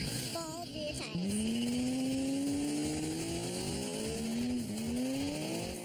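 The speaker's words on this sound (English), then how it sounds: "Tori lays down some rubber." A car with bald rear tires spins them in a burnout, giving a long rising squeal that wavers and dips over a loud, steady engine roar.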